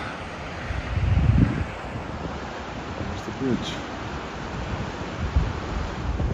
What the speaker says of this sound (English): The waves crashing on the shore.